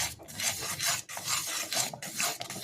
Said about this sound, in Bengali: এরপর সুজিটাকে এইভাবে নাড়তে হবে